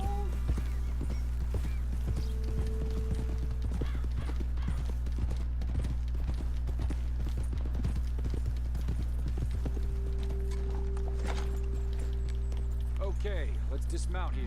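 Horses walk with steady, close clip-clopping hooves in the video game Red Dead Redemption 2, a continuous rhythmic patter under a low hum, with people talking over it and a brief whinny-like call.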